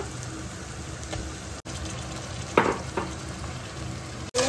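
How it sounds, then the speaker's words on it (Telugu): Mutton pieces for Hyderabadi haleem go into a frying onion masala and are stirred, giving a steady close sizzle broken by a brief scraping stir and a faint splash. "ఇప్పుడు మటన్ వేస్తున్నాం"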